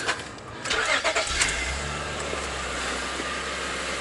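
A 2003-2008 Honda Pilot engine starts up with a brief cranking whir, then catches and settles into a steady, close, even idle that carries on alone.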